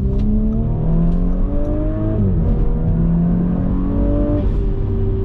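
Interior sound of a tuned Audi B9 S4 with a Unitronic Stage 1+ tune making 454 hp, the engine droning loud and steady as it accelerates, pitch climbing then dropping at a gear shift before rising again.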